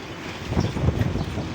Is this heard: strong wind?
yes